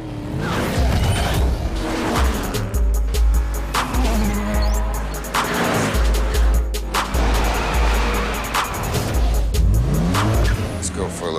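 A Detroit muscle car's engine roars and revs hard with repeated throttle surges and whooshes, loud and close throughout, while people talk over it.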